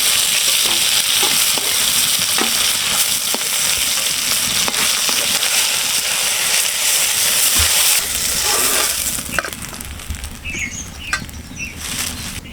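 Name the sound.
fish frying in oil in a pan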